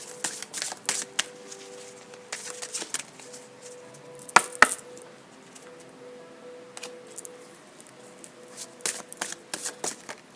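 Tarot cards being shuffled near a close microphone, brisk riffling bursts and soft taps coming in repeated runs over a quiet background, with no talk.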